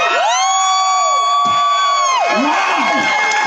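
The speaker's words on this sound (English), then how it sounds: "Let's give a nice round of applause for the Atomic Everybody, Menace. let's hear it for both these guys." A crowd at a chilli pepper eating competition cheers and whoops loudly and continuously, with yells rising over the noise and a voice sliding up and down in long tones.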